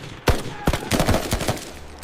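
A burst of rifle fire in a 1968 battle rings out as a rapid string of loud, close gunshots. Several cracks overlap into a ragged volley with no voices heard.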